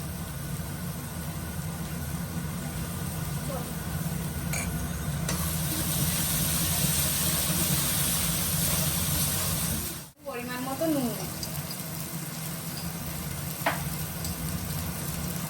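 Ginger-garlic paste fries in a pan with a constant close sizzle and faint stirring scrapes, and a brief sharp dropout breaks the steady hiss partway through.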